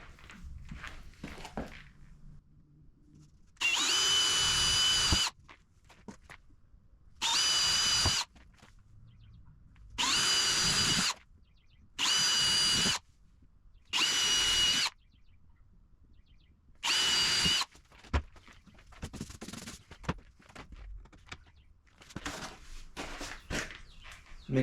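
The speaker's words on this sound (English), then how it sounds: "time just to drill it out" A power drill whirs in six short bursts of a second or two each, drilling holes for a shop cabinet, separated by pauses with light handling and shuffling noises.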